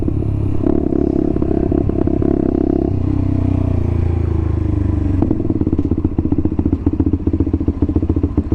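A motorcycle passes close by while the rider cruises on his own bike, its engine note loud and continuous throughout, with clattering and thumping road noise layered over the steady drone.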